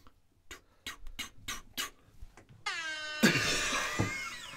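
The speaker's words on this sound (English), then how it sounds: "And just air horn out of nowhere." A sudden, loud air horn blast cuts in after a few sparse clicks and taps and then holds steady to the end.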